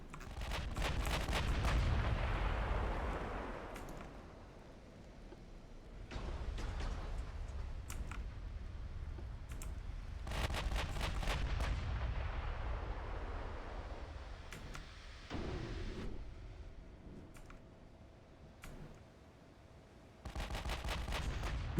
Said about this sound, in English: Our ships are also firing way faster.